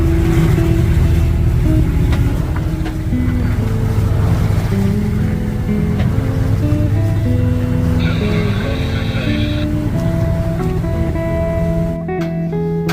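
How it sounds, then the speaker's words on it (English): Engines droning on the Severn River near Annapolis, a loud, steady motor hum with shifting tones, over water and wind noise. "Personal watercraft traffic definitely picked up as I headed up Severn River towards Annapolis"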